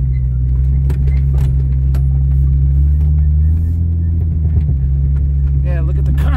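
A 1996 Jeep Cherokee XJ 4x4 engine idles with a deep, steady rumble while loose parts rattle and clink now and then; people talk over it.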